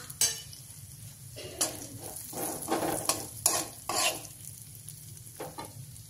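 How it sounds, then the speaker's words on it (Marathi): Finely chopped almonds and cashews sizzling in ghee for modak filling, a soft hiss with several bursts of spoon stirring and scraping against the pan. "बदाम आणि काजू बारीक करून घेतलेले ते टाकणार आहे।"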